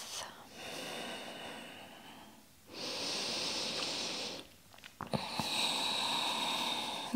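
Slow, deep breathing during a gentle yoga class, with long airy inhales and exhales alternating in a steady rhythm, close to the microphone, with a few soft clicks near the end.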